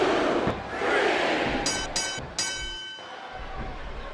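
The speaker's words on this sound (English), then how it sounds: "the crowd has come alive tonight with a chant directed at the superstars in the ring" A virtual wrestling crowd in WWE SmackDown vs Raw 2007 roars and chants during an iron man match between The Great Khali and Mark Henry, a dense, steady arena din with a few sharp bursts.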